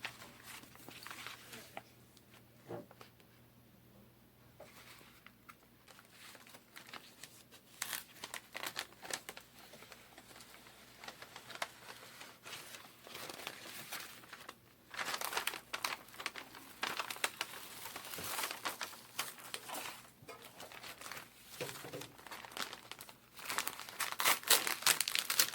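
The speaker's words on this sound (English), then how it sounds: "Peel the contact paper off of the paper behind it" Contact paper peeling away from its paper backing for a disc golf stencil dye, a steady run of crinkling and tearing crackles that grows louder and denser toward the end, with no talking.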